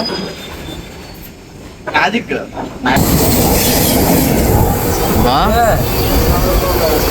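Brief talk at first, then a loud, sustained roar of an express train rolling into a railway station, with wheel screeches and rail clatter filling the air.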